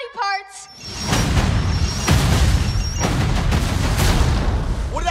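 Film-scene explosion and gunfire: a heavy boom followed by dense bursts of shots and blasts, loud and continuous, with brief voices at the start and end.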